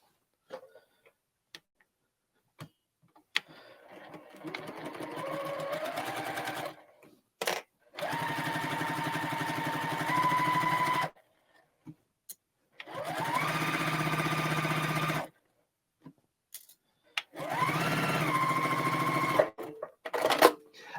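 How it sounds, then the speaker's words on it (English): A sewing machine runs a 1/4 inch quilt seam in several bursts of steady, fast whirring, each a few seconds long, separated by quiet pauses with faint clicks and taps. "just sew our 1/4 inch seam down that side"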